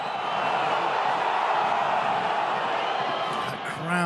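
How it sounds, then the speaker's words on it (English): A rugby crowd at a French Top 14 match between Castres Olympique and Lyon roars steadily in a broad, continuous wash of cheering and noise, loud and sustained throughout. "The crowd really getting behind them at the moment."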